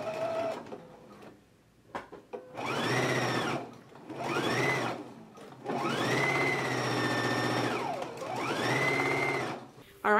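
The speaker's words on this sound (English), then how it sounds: "we again are going to understitch toward the bodice" Home sewing machine understitching a facing toward the bodice on a dress: a steady motor whir in long runs, rising and falling in pitch as it speeds up and slows, with short pauses and small clicks in between.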